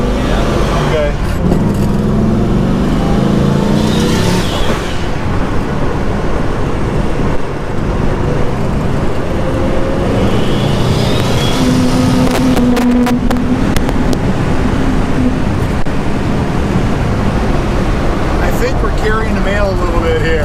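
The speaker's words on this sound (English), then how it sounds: "This is how muscle cars are supposed to be driven, like they're muscle cars." A 1968 Dodge Charger with a swapped twin-turbo Viper V10 making 780 horsepower roars and rumbles as it is driven hard, its loud engine note running continuously while people talk inside the car.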